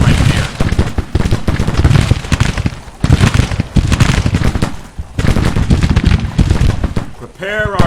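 Dense infantry musketry and artillery fire from a Grand Tactician: The Civil War battle, with crackling volleys and heavy booms that keep coming in long, loud bursts and mask any other sound.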